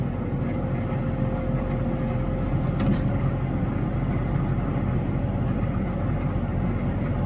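Steady low tractor engine rumble in first gear, droning close by at an even pitch throughout, loud and continuous with no voices.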